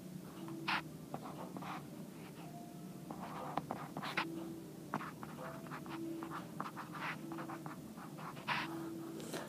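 Pen or pencil writing by hand on paper, a faint scratching of short strokes and pauses at close range in a quiet room, with occasional light taps.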